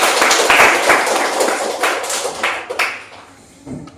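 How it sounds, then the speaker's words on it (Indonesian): Students in a classroom break into applause, a loud, close wash of scattered hand claps that thins out and tapers toward the end, with faint voices mixed in. "tepuk tangan untuk kita semua"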